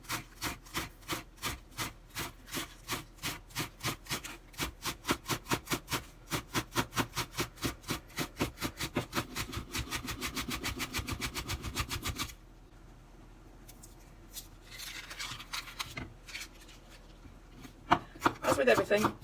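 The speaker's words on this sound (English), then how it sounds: "you need to cut things so they're all roughly the same sort of size" A knife chops vegetables on a board for a plant-based vegan shepherd's pie, fast even strokes ringing out close and distinct for several seconds, then a short quiet stretch with light handling sounds.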